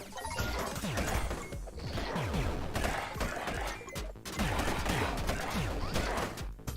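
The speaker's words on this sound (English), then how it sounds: "It's fireworks, guys." Fireworks pop and crackle in Forager, a rapid barrage of sharp bursts in two dense volleys with a short gap between them.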